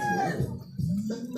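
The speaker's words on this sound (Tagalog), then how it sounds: "May manok din sa baba" A chicken clucks close by in a short burst of a few calls beneath a faint background hum, the notes rising and falling over just over a second.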